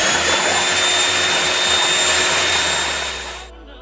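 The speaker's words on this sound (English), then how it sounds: "These are the 2 eggs. I'm going to do a light whisking." An electric whisk whirs loudly and steadily through two eggs in a bowl for about three seconds, then winds down and stops.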